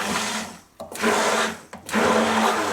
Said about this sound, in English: I'm using a hand mixer, so this is going to speed up the process of getting those flavors to kind of spread out through the sauce